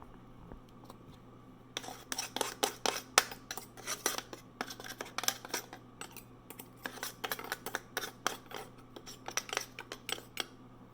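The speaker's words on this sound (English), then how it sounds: "you want to scrape that out with a spoon so you don't waste anything" A spoon scraping leftover coffee grounds out of a coffee grinder, a quick series of dry, scratchy clicks and rasps, close and fairly quiet, starting after a brief pause.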